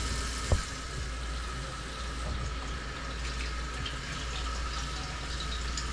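Warm water pours steadily into paint being mixed, a continuous, even splashing and trickling rush that holds at moderate loudness throughout.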